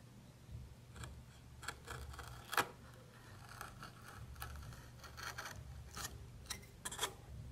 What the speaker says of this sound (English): doing this big cut where the tool sweeps around, changes the angle like that